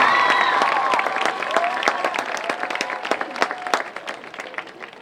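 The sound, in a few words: audience applause at graduation ceremony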